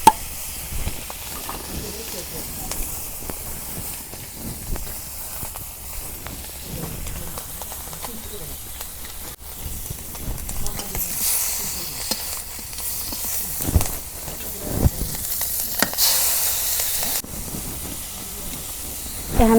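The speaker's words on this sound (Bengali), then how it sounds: "এখন মাছের ডিম ভেজে নিতেছি।" Fish roe frying in a pan in a village kitchen, a soft steady hiss and sizzle with scattered clinks and stirring knocks, louder bursts of spitting toward the end, no voices over it.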